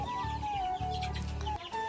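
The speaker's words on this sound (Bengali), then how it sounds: "এ হলো আমার মুরগির বাচ্চা" Young chicks being raised at home peep repeatedly in thin, high chirps close by, over a low background hum and without any talking.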